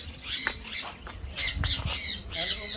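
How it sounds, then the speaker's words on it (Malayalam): A bird at Kamachi Park in Wayanad squawks repeatedly in loud, close, harsh calls over steady low background noise. "ഇത്ര ആറ്റിറ്റ്യൂഡ് ഉള്ള ഒരു പക്ഷി."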